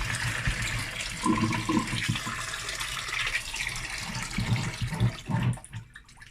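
Moimoi leaves (ewe eran) are rinsed in water, giving a steady splashing, running-water wash with some sloshing and handling noise, fairly close and continuous before easing off at the end.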